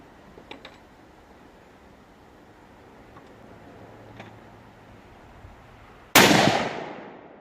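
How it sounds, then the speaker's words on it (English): A single loud gunshot fired at a cinder block outdoors, one sharp close crack with a short decaying tail near the end, preceded by a few faint clicks and quiet handling sounds. "let's shoot that cinder block"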